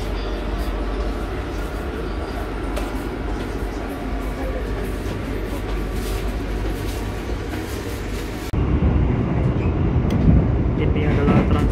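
Interior rumble of a new-generation economy-class passenger train in motion, a steady low-frequency drone throughout that grows louder and rougher near the end, with no talking.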